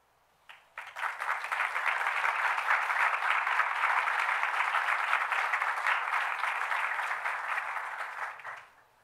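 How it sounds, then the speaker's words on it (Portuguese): Audience applause breaks out suddenly and holds as a steady, full wash of clapping for about eight seconds, then cuts off fairly abruptly; moderately distant and even. "o aplauso também fala por si"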